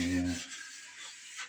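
An old cabinet being rubbed down in a circular motion to take off excess finish, a brief close scuffing rasp following a short hum at the start.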